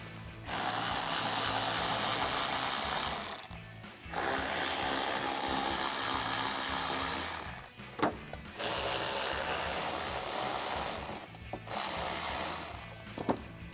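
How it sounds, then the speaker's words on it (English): A hand ratchet with a 10mm socket and extension loosens bolts on a Jeep Gladiator JT, giving long runs of dense, rapid clicking broken by short pauses, close and fairly loud. "we're going to remove these 3 bolts up here with a ratchet"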